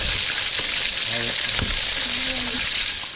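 Fish deep-frying submerged in plenty of cooking oil, a steady close hiss and crackle of sizzling fat, with a few faint voices murmuring in the background.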